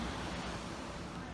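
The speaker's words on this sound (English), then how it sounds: "Yep, that's the ocean." Steady broadband roar of ocean surf at Daytona Beach, heard from a high window as a constant distant wash with no distinct breaking waves.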